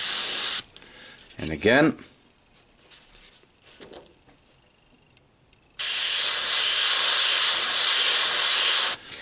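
An airbrush sprays white paint through a rivet stencil in steady hissing bursts, with a short burst at the start and a longer, louder sustained spray near the end, separated by a brief spoken phrase.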